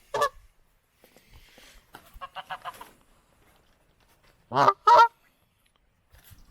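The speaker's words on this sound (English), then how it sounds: "Goose eggs maybe, but I think that's a Canada goose." Two loud, close Canada goose honks sound in quick succession, preceded by softer scattered calls and faint rustling along an outdoor walking path.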